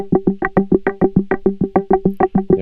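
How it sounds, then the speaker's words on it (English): A LinnStrument MPE synth patch runs through its arpeggiator, firing a steady, fast train of about fifteen short staccato notes in under three seconds, each clipped and evenly spaced, loud and alone. "But with the arpeggiator on, it repeats those very staccato notes."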